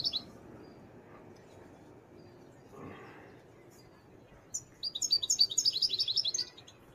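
Small birds chirping and trilling at a bird market, a quick burst of bright tweets rising near the end over a low murmur of crowd noise.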